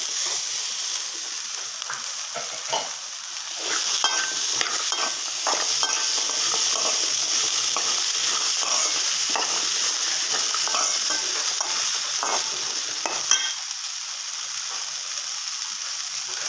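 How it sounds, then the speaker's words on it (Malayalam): Chopped potatoes fry and sizzle steadily in a pan, with a utensil stirring and scraping through them in irregular bursts; the frying stays continuous and fairly close throughout, with no voices. "നേരത്തെ അരിഞ്ഞു വെച്ചിരുന്ന ഉരുളക്കിഴങ്ങ് ചേർത്ത് കൊടുക്കാം."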